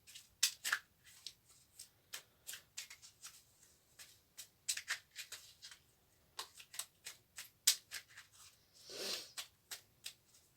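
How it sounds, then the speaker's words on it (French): Cards from a small angel oracle deck are handled and shuffled, giving quiet, quick papery flicks and snaps in an irregular run of many short bursts, with a brief soft swish near the end. "Je te prends une carte des anges, du petit oracle des anges"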